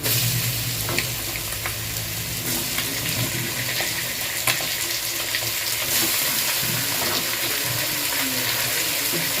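Preserved stingray dropped into a pan of fried ginger and onion, giving a loud, close, continuous sizzle with scattered stirring clicks and scrapes, and no voices.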